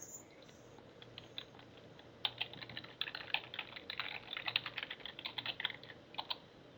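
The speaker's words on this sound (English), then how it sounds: "So Anne is typing in some" Keys tapping on a computer keyboard in a quiet room, light scattered clicks at first turning into steady, brisk bursts of typing close by, with no one talking.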